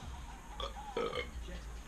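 A man's short burp, faint and brief, rising out of a quiet room background near the middle of the clip.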